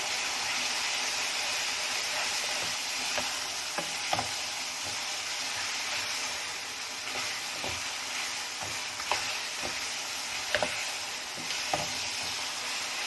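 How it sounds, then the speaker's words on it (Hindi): Keema with spices being stirred and fried in an Instant Pot: a continuous sizzle under repeated scraping strokes of a spoon against the pot, close and moderately loud, with no talking. "अब इसे अच्छे से मिक्स करते हैं।"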